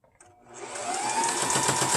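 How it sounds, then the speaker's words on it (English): A sewing machine motor starts up from near silence and settles into a fast, continuous mechanical whir with rapid rhythmic ticking as it stitches, close and fairly loud. "I prefer to do it on the sewing machine."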